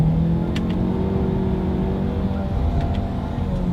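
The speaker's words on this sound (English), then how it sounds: "Let's do a quick little paddle shifter test here, and let's see how quickly they react for us." A 2020 Lincoln Nautilus SUV engine revs steadily and loudly through a quick paddle-shifter test, a close, continuous drone with shifting tones and no talk.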